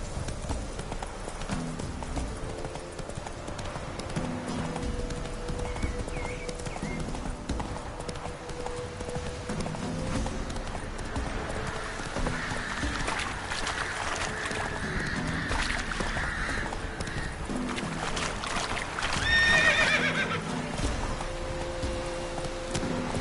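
Roach the horse galloping in The Witcher 3, a steady fast clip-clop of hooves that runs throughout under game ambience. A short neigh sounds near the end.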